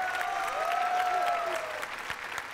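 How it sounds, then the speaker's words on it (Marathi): A studio audience at a Marathi comedy show applauding, with sustained clapping from many people and a faint whistle-like tone gliding through the middle. "जोरदार टाळ्या झाल्या पाहिजे त्या जोडीसाठी."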